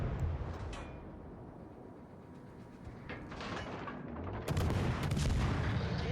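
Naval gunfire in World of Warships Legends from a Tier 6 Grom destroyer battle, a dense rumbling barrage of cannon blasts and distant explosions that swells louder in the last seconds, with no talk.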